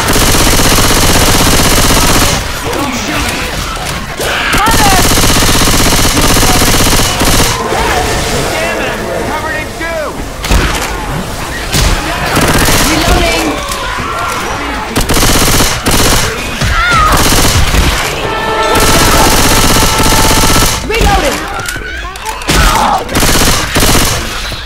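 Gunfire in the video game Left 4 Dead 2, loud sustained bursts of automatic shooting with brief pauses, dense and close throughout.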